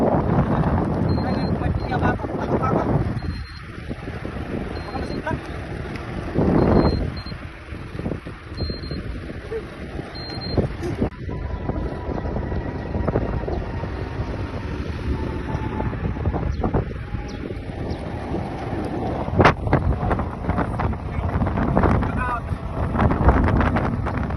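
Strong wind on Deira Island, Dubai, buffets the microphone throughout, a steady roaring rumble with gusts, while someone talks intermittently in the background.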